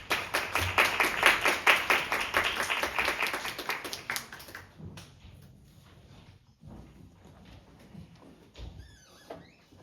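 An audience at a tourism-site renewal competition claps loud and rhythmically for a presenting team for about five seconds, then the applause stops, leaving faint room shuffles and taps.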